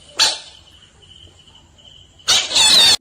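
Frogs give loud, shrill squealing calls in two harsh bursts, one short at the start and a longer one at the end, with a steady thin high-pitched tone lingering faintly in between.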